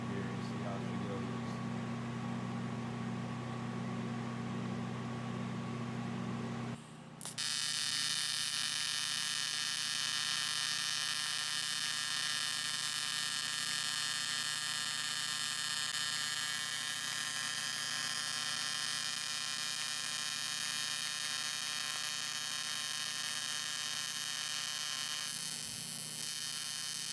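A Vulcan ProTIG welder set to about 100 pulse gives a steady electrical hum and buzz for close to half a minute. Its tone changes abruptly after a brief dropout, then turns into a dense, even drone with rich overtones.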